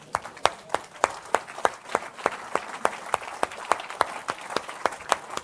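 A church congregation claps in a steady, even rhythm, the sharp claps coming quickly one after another and sounding close and fairly loud, with a faint crowd murmur beneath.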